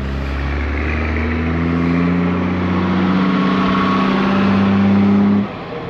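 A loud truck engine drones close by in a steady, continuous roar with a slight rise in intensity, then cuts off abruptly near the end, heard on the waterfront between Tadoussac and Rimouski.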